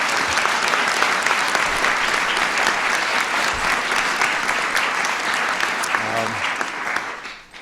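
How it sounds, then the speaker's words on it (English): A large audience at the White House Science Fair applauds loudly and steadily for nearly eight seconds, trailing off sharply at the very end. "let's give Sophia a big round of applause"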